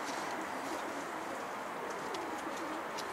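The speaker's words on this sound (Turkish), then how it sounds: "ünlü karabaşçı Ali karabaşları bırakıyor bize" Karabaş pigeons being let out, their soft cooing steady against a constant hiss of background noise, with a few faint higher chirps.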